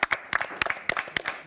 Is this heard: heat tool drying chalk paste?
no